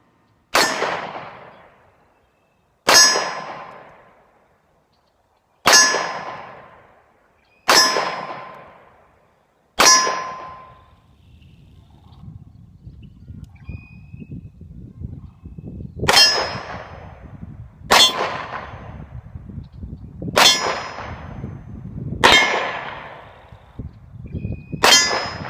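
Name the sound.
Beretta 92FS 9mm pistol shots clanging on steel targets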